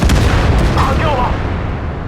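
A tank cannon fires in a tank video game on a Type 113 heavy tank, a loud close boom that opens the moment and rolls into a broad rumbling decay.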